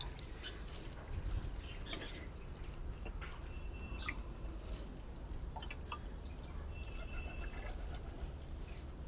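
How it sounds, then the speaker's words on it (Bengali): Water poured onto vegetable plants in a home garden, a steady soft splashing and dribbling that runs throughout with a few brighter drips, fairly close. "এখন একটু জল দিয়ে দেব।"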